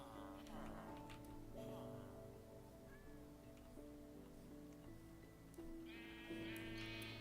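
Sheep in a Minecraft pen bleat in short, repeated game calls, several animals overlapping over a steady background with some talk mixed in.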